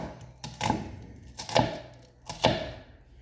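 A knife chops an onion thinly on a cutting board in three distinct, evenly spaced strokes, each a close, crisp thud.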